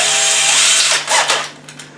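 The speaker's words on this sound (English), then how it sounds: "drilling the pre-drilled slots, the holes right there in the middle" A power drill with a depth guide bores pilot holes in a wooden cabinet for spring-loaded safety latches, whirring loudly at close range before easing off, with short bursts of grinding as the bit bites.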